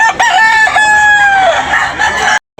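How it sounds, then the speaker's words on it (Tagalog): A rooster crows once at a chicken market in Tabunok, Talisay, Cebu, loud and close, a long rising-then-falling call lasting about two seconds before cutting to silence. "Wapong manok ni Busniri."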